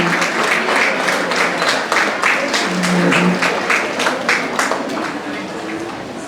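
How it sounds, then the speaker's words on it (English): An audience at a teachers' awards ceremony applauds an honoured teacher, sustained crowd clapping filling the room with distinct sharp claps through it, while a voice speaks briefly under the noise. "Can we give a big round of applause again"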